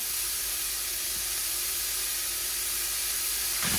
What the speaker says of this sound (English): I've got 1 pound of ground beef. I'm going to go ahead and start to cook it.